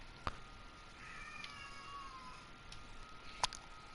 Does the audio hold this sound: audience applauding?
no